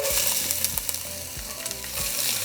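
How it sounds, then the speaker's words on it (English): Chopped onion sizzles steadily in hot oil in a pan over medium heat, a close, continuous frying hiss broken by a few stirring scrapes, with no voices. "Once the heat's up, we're going to add 1 onion."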